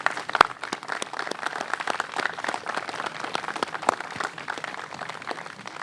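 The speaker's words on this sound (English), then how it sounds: "I want to give a round of applause to some strong African-American sisters" An audience applauds at a Dallas ISD press conference, a steady patter of many hands clapping, moderately loud and continuous, with no voices over it.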